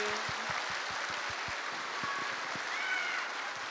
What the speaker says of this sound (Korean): 예수님께 큰 박수 올려드릴까요?